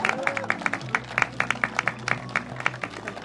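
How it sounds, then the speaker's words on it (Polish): Scattered audience clapping at the 2013 Grunwald longsword tournament awards, with individual claps standing out over a low steady hum. "Brawa dla niego!"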